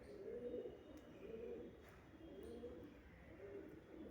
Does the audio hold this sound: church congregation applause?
no